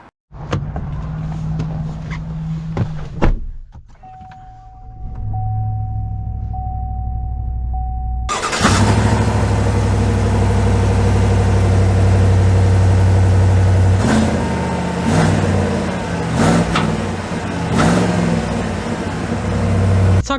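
A 2022 Chevy Silverado 1500 Trail Boss pickup engine cranks and catches around the midpoint, then settles into a loud, steady idle with a deep low rumble and a few brief shifts in tone.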